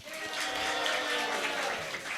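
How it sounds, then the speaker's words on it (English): Festive startup-competition audience claps and shouts together on cue, a dense wash of applause and cheering that swells steadily and holds for a couple of seconds, with whoops mixed into the clapping. "1, 2, 3, and clap and shout."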